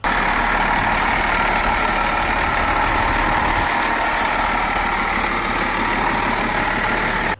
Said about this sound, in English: Really nice, quiet engine.